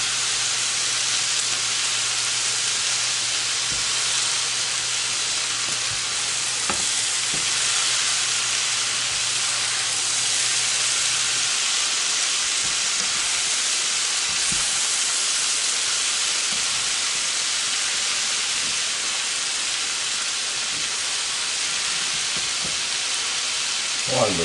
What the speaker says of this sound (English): Wonderful things are happening in the bottom here. The onion is caramelizing